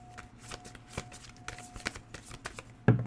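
Tarot cards being shuffled and drawn by hand, soft papery riffles and a string of light flicks and taps, quiet and close with a sharper slap at the end.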